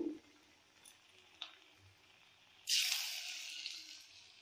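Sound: potato pakoras frying in hot oil

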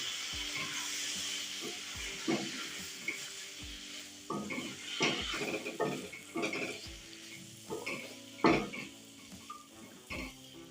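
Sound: stirring spice mix frying in pan

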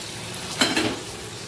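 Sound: fried potato and paneer added to oil and stirred with spices

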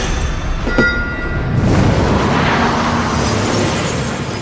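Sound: grenade explosion

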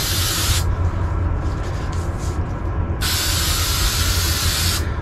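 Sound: spraying adhesive onto EVA foam floor tiles

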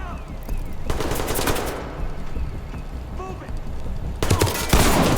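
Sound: gunfire in the video game Ready Or Not

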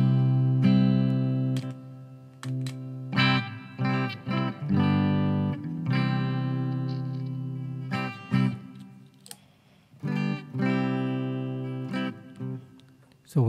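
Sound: clean guitar through Mosky and Zoom G1Four pedals, bypass mode

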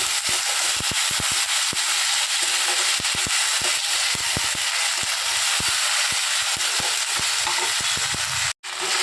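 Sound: ginger and garlic paste being sautéed and stirred

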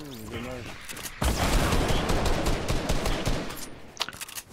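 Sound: gunfire in video game Far Cry New Dawn

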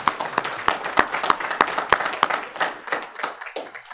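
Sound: congregation applause

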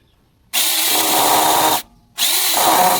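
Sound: cordless chain pruning saw cutting soft wood

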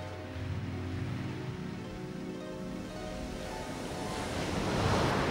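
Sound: sea waves as the sea grows rough

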